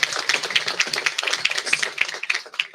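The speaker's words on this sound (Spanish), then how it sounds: "sí, un merecido aplauso y reconocimiento" A panel audience applauds in a room, a dense stream of hand claps that stays near and fairly loud all the way through, with no talking.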